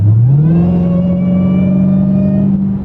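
A Dodge Hellcat Charger engine revs as the gas is pressed, rising quickly into a loud, deep, steady rumble held close by for a few seconds with no talk.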